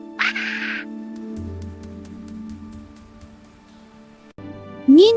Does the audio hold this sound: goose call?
yes